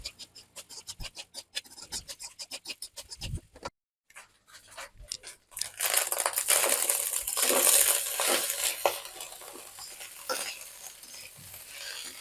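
Eggs frying in a pan for fried rice: a brief, patchy stretch of light taps at first, then a loud, steady broadband sizzle that holds to the end, with clinks from stirring.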